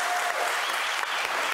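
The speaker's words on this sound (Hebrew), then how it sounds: "צריך פה למחוא לו כפיים המון ליריב" A crowd applauds warmly for Israel's justice minister, Yariv, steady dense clapping that continues without a break and sounds close and loud throughout.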